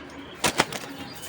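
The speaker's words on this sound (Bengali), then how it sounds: "আমি ছেড়ে দেখাই কবুতরগুলা" A quick burst of wings flapping as a pair of black tracer pigeons take off, two sharp flutters close by, then quiet.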